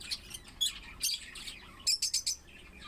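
Pet birds chirp inside a breeding cage, giving short high tweets in scattered bursts that end in a quick run of four or five chirps, fairly close and with no talk.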